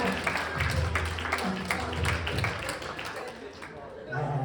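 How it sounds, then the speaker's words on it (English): Audience applause for a line of hypnotized cheerleaders at a high school hypnosis show, a steady wash of clapping with some voices mixed in, fairly loud throughout. "Give them a big round of applause."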